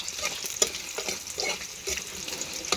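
Sweet potatoes fry in oil over a wood fire while being stirred, a steady bright sizzle with soft scraping and clinks throughout.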